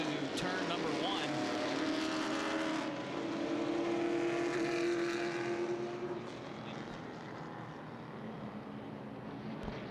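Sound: late model race cars driving into turn one

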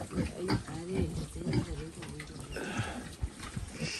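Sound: pig

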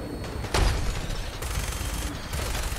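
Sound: gunfire in Fallout 4 VR video game

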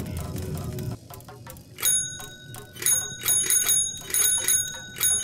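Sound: bell ringing in the video game Totally Accurate Battlegrounds

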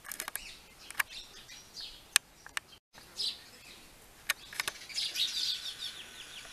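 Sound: house sparrows chirping

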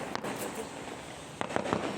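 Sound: firecrackers bursting during a celebration

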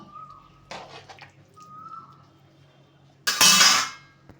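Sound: stirring mustard and poppy seed paste in a pan

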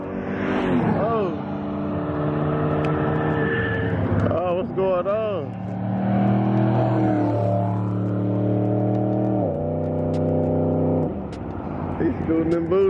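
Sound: car driving past

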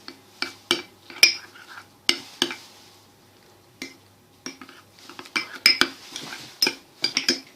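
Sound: spoon stirring sauce in a bowl

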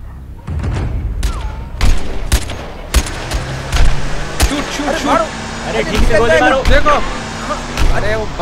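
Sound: gunfire in a dubbed action movie

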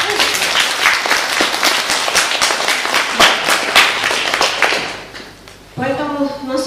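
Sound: applause

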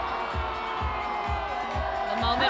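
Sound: New Year's Eve crowd cheering at Renaissance Square

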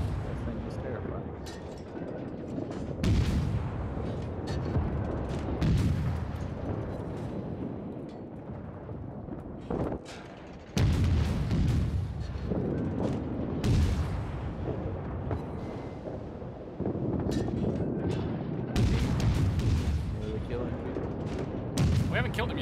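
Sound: naval gunfire in World of Warships video game

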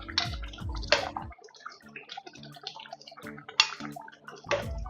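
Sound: fish added to boiling fish and mango curry

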